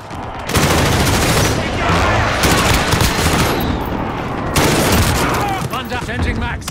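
Loud, dense video-game gunfire with rapid automatic bursts and a heavy grenade blast, continuous over nearly seven seconds as an M4A1 rifle fires, with voices talking underneath the combat noise.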